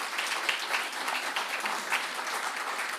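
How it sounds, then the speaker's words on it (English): Steady audience applause follows a conference presentation at an ITAPA 2023 event, an even, continuous clapping from a seated crowd heard alone without talk. "Thank you for the applause."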